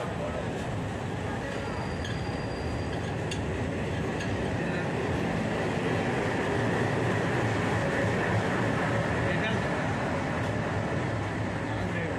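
A passenger train pulling into Tilaru railway station, a steady rumbling roll of wheels and carriages with a faint high whine, continuous and moderately loud beneath a talking voice.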